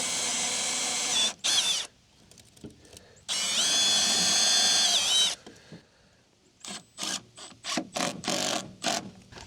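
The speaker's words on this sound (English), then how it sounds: "Try not to drill through into my tailgate." A power drill whirs into a wooden board in two long bursts with a pause between, followed by a series of short, choppy trigger pulses.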